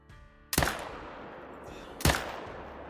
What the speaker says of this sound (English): Follow-up shot, connect